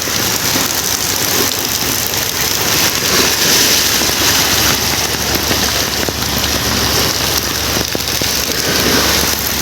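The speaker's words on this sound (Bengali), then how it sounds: "কিছু দেখা যাইতেছে না এমন বৃষ্টি হচ্ছে কিছু দেখা যাইতেছে না" Heavy cyclone rain beside a river pours down in a loud, dense, unbroken roar of drops hitting surfaces, steady throughout with no pauses.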